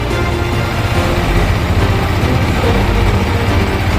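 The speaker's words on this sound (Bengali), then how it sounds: "বন্ধুরা দেখো, এই হচ্ছে ইঞ্জিন সাউন্ড।" A Yamaha XSR 155 motorcycle engine idles steadily and loudly up close, a continuous low rumble with a dense, even texture throughout and no speech over it.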